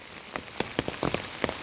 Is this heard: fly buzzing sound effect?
no